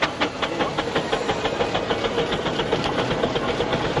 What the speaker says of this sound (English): just listen to the bark on that single cylinder engine